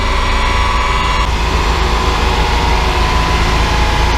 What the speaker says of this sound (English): Letting the dyno roll down to calculate transmission loss. Currently rolling at 100 mile an hour.